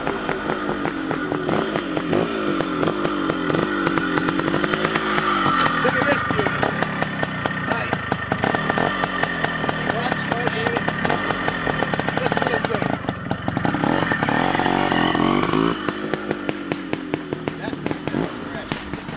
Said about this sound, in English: That's a 1973 CZ250, brand new motor in it. Listen how crisp it sounds.